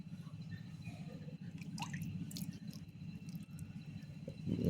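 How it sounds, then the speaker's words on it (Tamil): Water trickles and drips softly onto the soil of a hibiscus cutting, quiet and close, with a brief louder splash at the end. "லேசாக தண்ணியை ஊற்றி"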